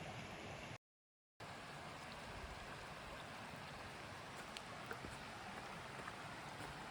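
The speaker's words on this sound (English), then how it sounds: "I'm gonna try to cross this river now." A river rushes steadily along the Appalachian Trail between Stover Creek Shelter and Gooch Mountain, a close, continuous wash of flowing water broken only by a brief silent gap near the start.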